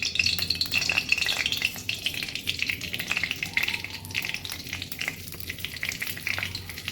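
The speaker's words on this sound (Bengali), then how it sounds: "এর মধ্যে দিয়ে দেব একটু গোটা জিরে" Whole cumin seeds sizzle and crackle in a small amount of hot oil for a Rajasthani gitti sabzi, a steady close frying hiss with fine pops throughout and no talking.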